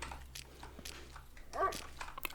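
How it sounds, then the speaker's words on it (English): Dogs in a stealth survival video game, heard faintly and at a distance as scattered short barks and whimpers over a low ambient hum, with one louder yelp near the end. "I already can hear dogs on my ass."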